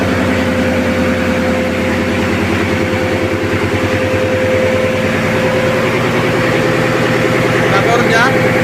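A Yanmar MF28 850 hp marine diesel running in a ship's engine room, loud and close, with a rapid, steady mechanical chugging and whine throughout.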